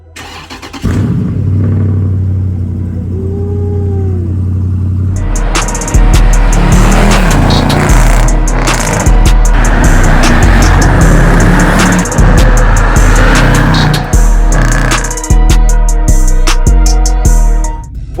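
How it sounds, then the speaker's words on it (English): SRT Jeep engine cold start: a starter whir, then the engine catches with a loud roar around five seconds in and settles into a deep, rumbling idle with occasional revs, close and alone. "About to get y'all a cold start."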